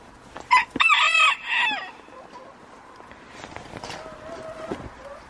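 Chickens cluck and a rooster crows nearby, with scattered farmyard clucking continuing at lower volume afterward.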